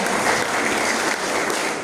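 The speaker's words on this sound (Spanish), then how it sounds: "Cuéntale un aplauso al Señor, amén" A church congregation at a Spanish-language service breaks into dense, steady applause, loud and continuous for the whole moment.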